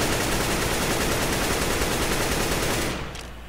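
Automatic weapon fire sprays continuously in a shooter video game, with the player pulling down against recoil. A dense, loud, unbroken stream of rapid shots runs for about three seconds, then cuts off, leaving only faint background.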